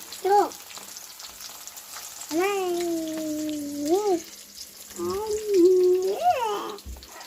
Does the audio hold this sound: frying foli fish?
yes